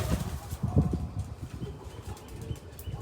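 A pigeon returning home, its wings flapping in quick, irregular bursts nearby, moderately loud with soft rustling between the beats.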